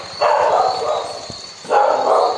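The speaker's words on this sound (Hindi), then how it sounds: "क्या हुआ तुझे, क्यों भौंक रहा है?" A dog barks twice, close by, during an evening vlog outing in Srinagar, with two sustained barks separated by a short pause against a steady background hum.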